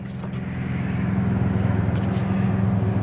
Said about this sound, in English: if you hear cars driving by, that's why